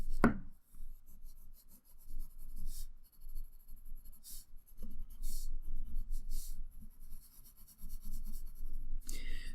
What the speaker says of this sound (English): Then I'll add in some more shading and detailing, and I'll also erase away these guidelines.